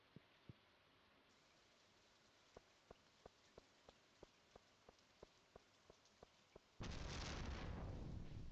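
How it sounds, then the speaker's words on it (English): Rain in Stardew Valley begins suddenly as a dense, loud, steady hiss after a long stretch of quiet, evenly spaced soft thuds. "it's raining"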